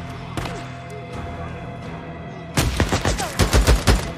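Gunfire in the video game Days Gone, a rapid burst of several loud shots in the second half, following a quieter stretch of game ambience with faint background sounds.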